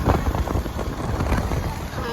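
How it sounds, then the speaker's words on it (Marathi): Heavy monsoon rain falls steadily during a village trip, a loud, dense hiss mixed with gusty wind buffeting the microphone, without a break across the short stretch. "पावसाने मस्त जोर घेतलेला आहे"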